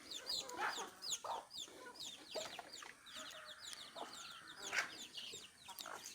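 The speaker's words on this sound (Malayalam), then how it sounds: "ഇതാണ് എൻ്റെ കോഴികൾ ആകെയുള്ളത്" Native chickens, including Kadaknath birds, cluck steadily in a small backyard flock on a farm, with overlapping calls near and far and an occasional sharper squawk. No one talks.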